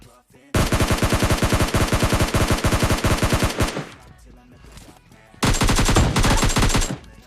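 Automatic rifle fire in the video game PUBG Lite, two long rapid bursts of loud, close shots separated by a short pause with faint game ambience.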